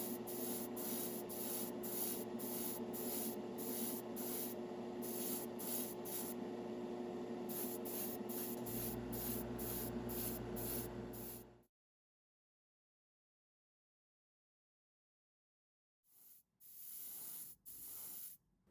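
A trigger-style airbrush sprays paint onto a model figure in rapid pulsed bursts of hiss, then a long stretch of silence before a few more short spray bursts near the end.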